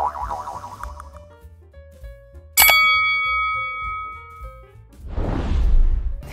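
A bright notification bell rings once with a clear, sustained tone that fades slowly, followed by a whoosh.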